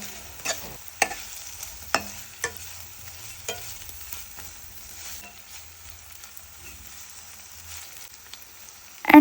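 Paneer frying in a pan as salt is mixed in: a quiet background sizzle broken by sharp spatula scrapes and clinks at irregular intervals, with no speech.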